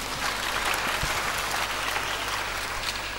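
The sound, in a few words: audience applause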